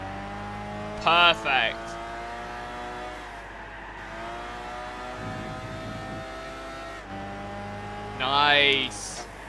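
Racing car engine in Gran Turismo 6 drops from a high whine as it downshifts to third gear, two brief revving blips standing out, with someone talking over the engine drone.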